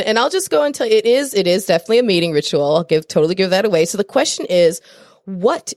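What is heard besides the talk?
No distinct noise like a dog, phone or traffic.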